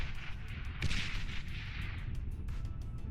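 Rocket-armed robots fire weapons in a video game skirmish, aiming at a metal extractor and striking a sentry; rapid shots and bursts sound close and continuous, with a dense crackling barrage and no talking.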